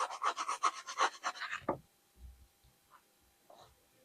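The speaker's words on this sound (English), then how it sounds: "Just a final run with the sandpaper, so you don't have to press hard, just like that, rotating it slightly while you do it" Sandpaper rasps against a Victorinox Swiss Army knife adapter in a quick run of close, rhythmic rubbing strokes, then stops, leaving a few faint handling taps.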